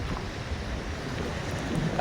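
Wind blows steadily across the open sea during a fishing outing, a broad even rush with a low rumble, moderately loud and continuous throughout with no talk.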